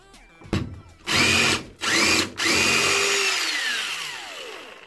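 A DeWalt 20V Max 1/4-inch impact driver drives a 2-inch screw in short bursts: a brief blip, then two loud whirring runs and a longer final burst with a falling whine as it winds down, close and alone.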